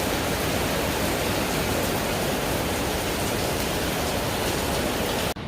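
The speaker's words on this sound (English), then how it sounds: "Can you guys hear how hard it's raining out there?" Heavy rain pouring down outside at night, a steady, dense broadband hiss that fills the whole stretch without a break, with no talk over it, before it cuts out abruptly near the end.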